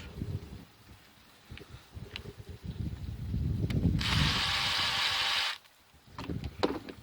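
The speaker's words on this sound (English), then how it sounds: "Line up the screw holes with the screws." Screws being driven into a damaged extension cord plug during repair: close handling clicks and rattles, then a steady buzzing drive of a bit over a second, followed by more small taps.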